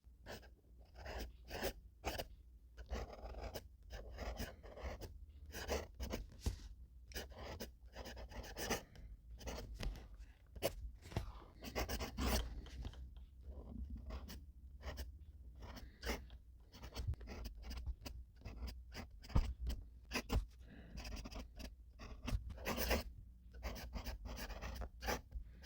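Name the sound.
writing with a fountain pen on paper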